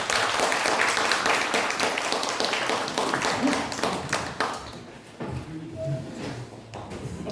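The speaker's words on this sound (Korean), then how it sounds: "여러분 큰 박수로 맞아주시기 바랍니다" A lecture audience gives a big welcoming round of applause, a dense wash of many hands that holds for several seconds and then thins out, leaving quieter room noise and a few faint tones.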